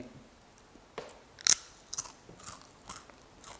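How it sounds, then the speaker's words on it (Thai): Crisp crunching bites of a baked crispy fish snack close up, a few sharp cracks followed by lighter chewing crunches, quiet background otherwise. "ได้ยินเสียงของความกรอบของมันหรือเปล่านะครับ"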